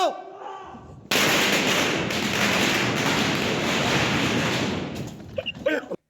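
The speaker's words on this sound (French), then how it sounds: "regardez cette vidéo d'un pétard mitraillette qui explose dans une grotte" A string firecracker goes off inside a cave, a dense, loud burst of rapid crackling bangs that runs for about four seconds, with voices heard before and after.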